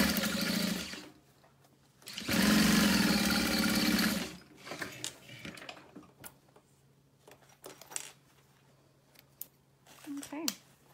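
A sewing machine stitches a pouch opening closed, a close mechanical whir lasting about two seconds, followed by quieter handling clicks and rustles of fabric while a person talks.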